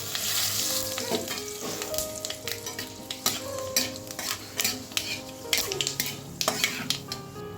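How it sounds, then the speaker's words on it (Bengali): Dried chilies, panch phoron and bay leaves fry in hot mustard oil for mango chutney, crackling and sizzling nearby while a utensil clinks and scrapes against the pan. "তো তেলটা গরম হয়ে গেছে, দিয়ে দিব শুকনা লঙ্কা, দিয়ে দিব পাঁচফোড়ন আর তেজপাতা।"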